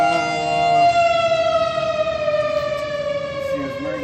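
A civil defense air raid siren wails in a long, loud, steady tone that slowly drifts, sounding at noon in a Utah town and ringing alone without talk.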